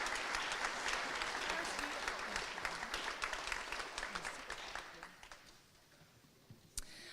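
Sustained applause from a convocation audience honoring graduates, dense at first and then thinning into scattered claps as it dies away, ending with one sharp clap.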